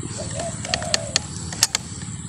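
Soft pigeon cooing in the background of a rice field, a low murmuring call, with a few sharp clicks and taps scattered over steady ambient noise.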